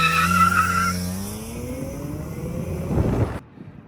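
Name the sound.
BMW E46 M3 launch control start with tire squeal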